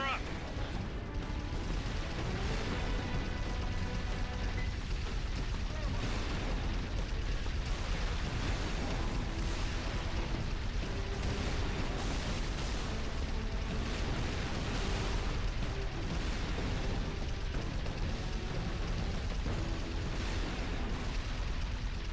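Cannon shots and explosions from Halo 3 boom repeatedly over a steady, dense battle din, with people talking over the action.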